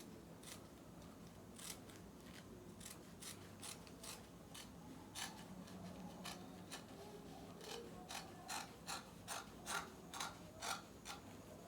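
Scissors trimming excess fabric off a sewn sleeve, a steady series of crisp snipping clicks, close and fairly quiet, speeding up into a quicker rhythm toward the end with no talking.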